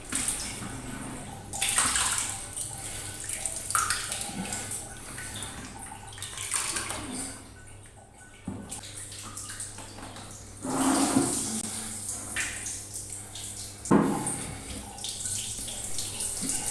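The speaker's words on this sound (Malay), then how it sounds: "Kemudian kita buangkan air itu dengan menggunakan tapis" Water drains through an onion strainer during a homemade fake aquarium stone project. It sounds like a continuous splashing, trickling pour with several louder surges, heard close and without talk.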